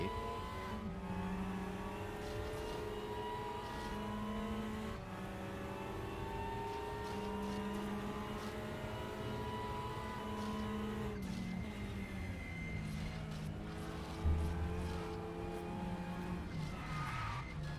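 A TCR touring race car laps Suzuka circuit, its engine droning steadily with shifting pitch through gear changes, loud and continuous for the whole stretch, with a brief tyre scrub near the end and no speech over it.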